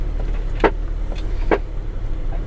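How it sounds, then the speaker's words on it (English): Branches scraping the paint of a van driving a bush backroad in the Yukon, heard as two or three brief scratchy scrapes over a steady low engine and road rumble. "That noise is your paint getting scraped off."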